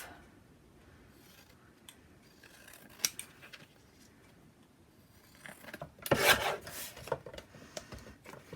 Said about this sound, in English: Let's just trim this off.